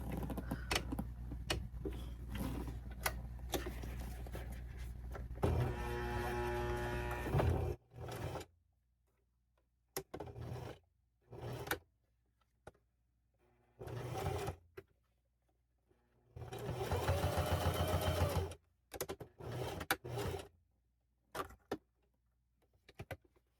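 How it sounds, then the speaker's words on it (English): A sewing machine topstitches a folded seam on a handbag in quiet, close bursts, with a long run at first and a later shorter one, separated by soft clicks and handling noises. "you're gonna fold the seam over and you're gonna top stitch to enclose that seam"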